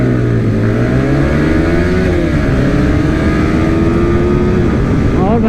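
Bajaj Pulsar RS200 motorcycle accelerating hard and overtaking during a race against other bikes, a loud close engine drone with rising and shifting pitch and heavy wind rush throughout.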